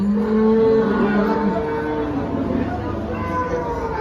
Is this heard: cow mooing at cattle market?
yes